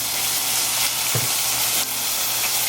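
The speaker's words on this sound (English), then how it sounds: "So we're gonna sear both sides and then cover in some broth that we have and low simmer for about an hour." Beef spleen searing in a hot pan, a loud, dense, continuous sizzle close up, with a faint knock partway through.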